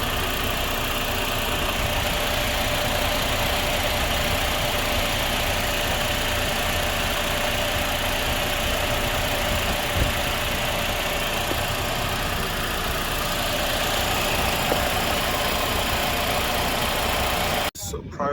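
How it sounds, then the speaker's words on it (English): A noisy, faulty AC compressor runs on an idling car engine, giving a loud, continuous droning hum with a faint steady whine, close by and unbroken for the whole stretch. "that very noise which you guys are hearing on that AC compressor"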